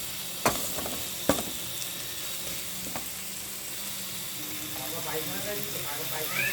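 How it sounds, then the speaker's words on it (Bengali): Spices for mutton curry sautéing in a pan, a continuous hiss of frying with a few sharp knocks of the spoon early on and soft bubbling toward the end. "সমস্ত মশলাগুলোকে সুন্দরভাবে কষিয়ে নেবে"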